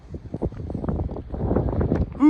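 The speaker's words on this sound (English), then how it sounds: "it's windy and cold." Cold wind blows outdoors in a small Ohio town, buffeting the microphone with irregular rumbling gusts that build steadily, ending in a sharp tonal note that swells above the wind.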